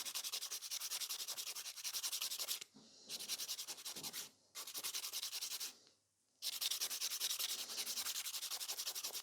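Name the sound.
filing a gel nail with a nail file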